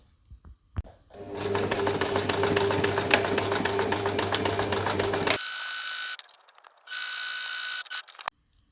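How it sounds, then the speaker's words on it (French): A sewing machine runs a long seam across the wide edges of fabric for a wallet, giving a close, rapid, steady mechanical chatter. After it stops, two shorter bright bursts of whirring follow, separated by near silence. "on réalise une piqûre sur les grandes largeurs"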